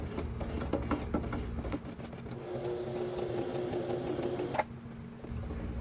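A sewing machine stitches back and forth while backstitching thread on a pajama set, a steady rapid whirring hum with brief pauses as direction changes, then stopping with a sharp click near the end.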